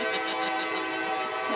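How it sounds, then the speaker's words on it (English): A train passing nearby gives a steady, loud horn-like tone with a rumble of rail noise throughout, and a faint voice underneath. "There's a train over there."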